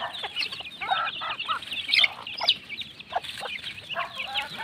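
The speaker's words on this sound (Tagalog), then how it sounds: "sinabuyan lang po natin ng patuka ang ating mga alagang sisiw dito sa loob ng kulungan" Pet chicks in their coop, clucking and cheeping busily as feed is scattered, with many overlapping close calls and no talking.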